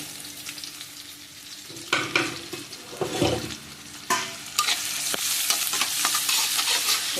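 Curry leaves and onion frying in a pan for a chicken curry, a steady sizzle with bursts of stirring and scraping, growing louder and busier toward the end, with no voices.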